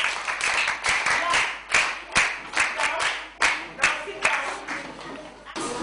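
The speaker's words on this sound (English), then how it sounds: "Clap for yourselves, children." Young children clapping for themselves in a classroom or lesson, a run of uneven, scattered claps in loose bursts, close and fairly loud, with no talk over them.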